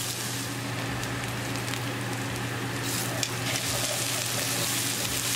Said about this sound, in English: So keep stirring and we're going to keep cooking until our onions are nicely